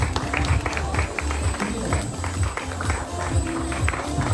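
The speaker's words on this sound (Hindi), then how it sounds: "तालियां प्लीज, तालियां एवरीबॉडी" Audience applause at an annual function, a dense ongoing patter of hand claps from a crowd indoors, fairly close and sustained throughout, with faint voices beneath.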